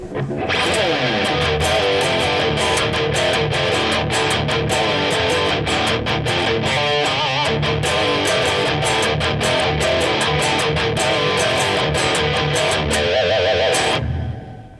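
A heavily distorted electric guitar in drop D tuning chugs through a loud, driving riff with sharp rhythmic stops, played alone without any talking.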